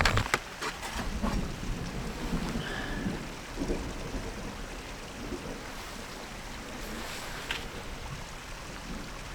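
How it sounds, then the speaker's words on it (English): Rain falls steadily in the wild of Padjelanta National Park in Sweden, with a low rumble of thunder in the background and a few sharp knocks near the start, all moderately quiet. "I think there was some thunder again."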